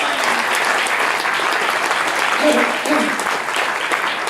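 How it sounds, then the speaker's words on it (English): Dense audience applause at a business agency leadership talk, loud and close, steady throughout with a brief spoken word layered over the clapping. "I just wanted to get up and give you a round of applause."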